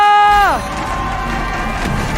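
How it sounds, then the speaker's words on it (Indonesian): Arena crowd at an MPL Indonesia Mobile Legends esports match clapping and cheering, a broad sustained roar that follows a short descending electronic tone at the start. "MPL Arena mana tepuk tangannya?"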